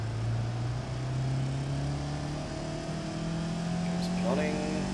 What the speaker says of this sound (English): So if we run the engine now, we have nice combustion explosions.